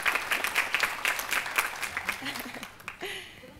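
Steady applause from an audience fills the space, then fades out as a voice begins speaking.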